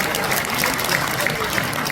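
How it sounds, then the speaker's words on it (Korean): Steady, dense clapping from an audience at a book launch event fills the whole stretch, loud and continuous, like an audience applauding together. "여러분 이재 의원님을 박수로 환영해 주시면 감사드리겠습니다"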